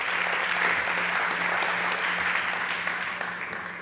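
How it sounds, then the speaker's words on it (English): Audience at the South Summit 2023 TNBT stage applauding the startup Delta Protect, dense sustained clapping that slowly tapers toward the end. "A big round of applause, please, for Delta Protect"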